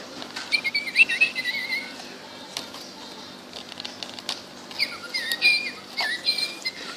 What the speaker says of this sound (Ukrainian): Дивіться, яка пташка в клітці, вона так.